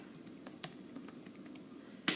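Quiet keystrokes tap irregularly on a computer keyboard, soft separate clicks with a couple of sharper louder hits, no voices.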